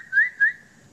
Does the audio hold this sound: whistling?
yes